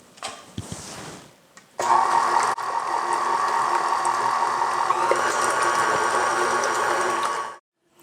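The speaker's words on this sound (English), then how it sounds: "whip them up in a mixer" Electric mixer whipping boiled potatoes with cream and cheese, a steady loud motor whir that starts after some brief clatter, runs evenly for several seconds close up and then stops.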